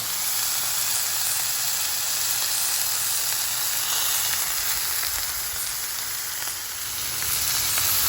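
Chicken fajitas sizzle in a hot pan, a steady close hiss of frying with a faint high whine above it, continuous and even throughout with no voices.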